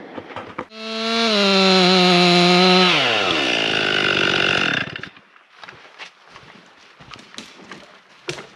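A chainsaw cuts a somewhat rotten tree while a woods road is being cleared: a loud, close engine whine holds steady, then winds down in falling pitch, and quiet woodland rustles follow.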